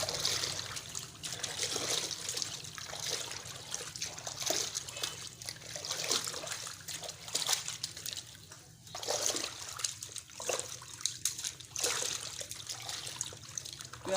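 About 35 kg of chicken roast for a wedding hall is mixed in water, giving a faint, continuous trickling and sloshing with occasional splashes heard at low level throughout.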